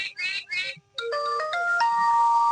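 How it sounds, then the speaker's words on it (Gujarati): A mobile phone rings for an incoming call, playing a short electronic melody of bright tones after a few chirpy beeps, close and clear. "જો ફોન આવ્યો આ પૈસા જ માગશે"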